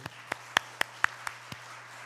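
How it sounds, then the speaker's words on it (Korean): A few separate handclaps ring out at a church general assembly welcoming new missionaries, sparse, sharp and evenly spaced rather than a full crowd ovation. "자, 환영하고 기뻐하는 마음으로 크게 박수로."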